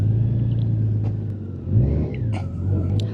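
A Honda Gold Wing motorcycle engine idles with a low rumble, then revs up briefly as it pulls away, close and fairly loud, no speech.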